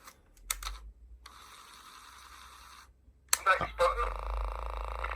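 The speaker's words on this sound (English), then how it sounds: "If I fast forward the tape," A vintage Grundig Steno-Cassette DH2220 dictaphone fast-forwards its tape: a few mechanical clicks, then a steady, thin motor whine that stops with a clunk, followed by more clattering handling noises and a faint hum, all close and fairly quiet.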